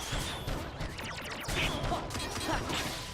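Fireworks exploding in a video game, a dense crackling, thumping barrage heard close and loud over game music, with heavier bursts coming in waves.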